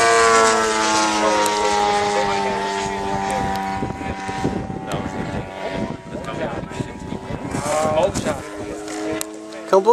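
A small model aircraft engine on a Kranz Corsair drones in flight with a high, steady whine and strong harmonics, fading as voices talk through the middle, then buzzing clearly again near the end.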